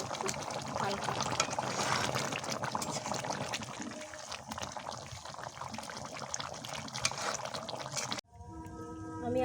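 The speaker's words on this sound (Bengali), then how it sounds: "আমি আবার জল দিয়ে দিলাম," Water poured into a cooking pan of simmering stuffed patol dolma with coconut and chickpea filling: a steady, rushing pour lasting about eight seconds, then a sudden cut to quieter kitchen sound.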